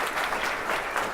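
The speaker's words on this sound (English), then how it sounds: "Give them a round of applause for that." Guests at a spiritual ceremony break into applause, a loud, dense patter of many hands clapping close by for about a second without pause.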